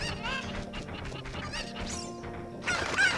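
Cuckoo chickens clucking and squawking in Zelda: Ocarina of Time's Kakariko Village, a steady run of loud bird calls with a sharper burst of squawking near the end.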